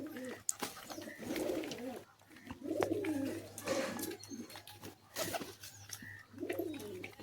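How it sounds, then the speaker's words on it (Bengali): Pigeons coo repeatedly nearby in soft, rolling throaty calls while pecking at grit in their loft, the cooing rising and falling in overlapping bursts against a faint steady hum. "দেখুন কত সুন্দর গ্রিড খাচ্ছে এবং পায়রাগুলো দেখুন কত সুস্থ আছে"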